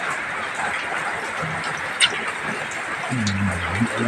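Typhoon downpour keeps up a constant loud hiss, while a voice speaks briefly near the end over the rain.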